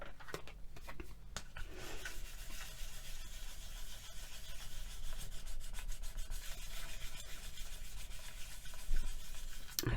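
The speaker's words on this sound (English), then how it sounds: "And now we'll give it a burnish." Cernit polymer clay is burnished by hand, a steady close-up rubbing and scraping that runs on continuously at low level, with no voices.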